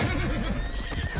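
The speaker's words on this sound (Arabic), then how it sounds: "خيول هنا" Horses neigh and whinny in Red Dead Redemption 2, a loud close whinny over a steady low rumble with faint hoof clip-clop, no talking.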